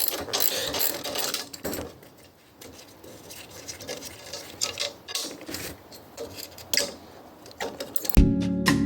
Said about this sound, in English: I'm gonna have to take out these two bolts real quick